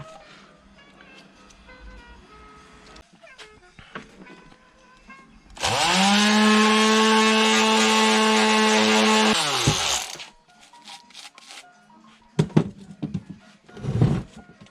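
Power sanding on a Luhrs 28 boat project with 80 grit sandpaper: a loud, steady machine whine runs for about four seconds mid-clip, with scattered knocks and handling noises before and after.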